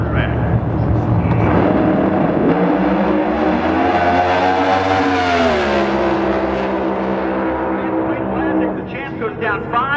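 Pro Mod drag racing car roaring down the track in Phoenix, a loud engine note rising in pitch as it accelerates hard and then sweeping away, with an announcer talking over it.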